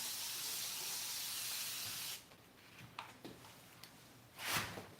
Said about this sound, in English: we're gonna spray it with water first